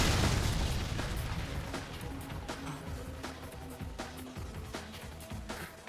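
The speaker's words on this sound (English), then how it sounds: "The shooting will now commence." Magic pistols fire in an anime battle: a rapid run of sharp bangs and pops over a booming rumble, loud at first and easing slightly.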